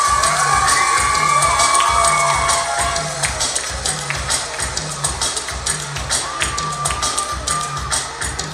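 A large concert crowd cheers, whoops and shouts loudly and continuously for a singer, with a steady thumping beat pulsing underneath.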